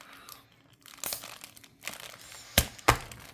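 A dull razor blade slitting packing tape on a phone box: soft crinkling and scraping, then two sharp crackling rips close to the mic, quiet overall with no voice.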